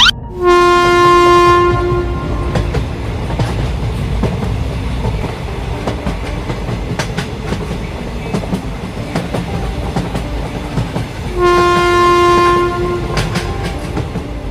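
Cartoon passenger train rolling along with a loud horn blast at the start and again near the end, steady rumbling wheel clatter continuous between them.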